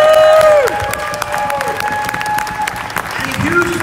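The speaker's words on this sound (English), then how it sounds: "So I'd like a huge round of applause for all of the wonderful artists that have graced our stage this evening." Audience applause at a burlesque show, loud and sustained clapping from a crowd with some cheering, while a voice and musical tones carry over it throughout.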